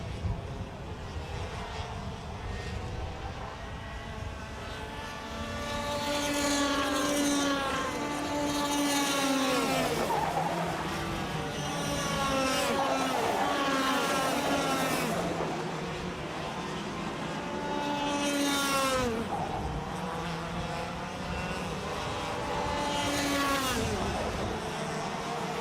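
Racing karts at the Tillotson Ireland Karting Championship at Kiltorcan rise and fall past the track in a continuous, droning, buzzing chorus of small engines with repeated pitch sweeps as the pack goes by, heard at a distance.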